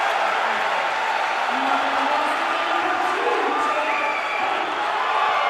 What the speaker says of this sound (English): you hear the fans as the blue crowd comes to their feet